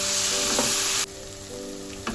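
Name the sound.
spice paste (masala) frying in oil for pomfret rossa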